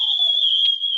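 A male Arctic pinniped's mating call holds a steady, high whistling trill for about a second, with a brief pulsing break near the end. It sounds clear and alone, with no talk over it.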